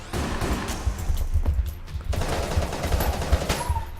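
Rapid gunfire in the bullet-hell game Enter the Gungeon, a fast steady stream of sharp shots with brief impacts, loud and close, pausing briefly midway before resuming.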